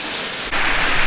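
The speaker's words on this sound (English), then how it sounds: "I can let you hear it. The Ferne Clyffe waterfall, the main waterfall, sound good." Main waterfall at Ferne Clyffe State Park at night, a steady broadband rush of falling water that swells louder about halfway through and then holds, with no voices.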